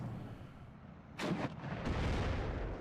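Panzer I and Panzer II tanks firing on Vickers heavy machine-gun teams in the Steel Division: Normandy 44 game, heard as a couple of distant booming shots over a low rumbling battlefield background.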